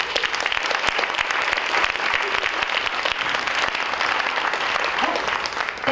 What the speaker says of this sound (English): Let's give another round of applause for our three amazing presenters today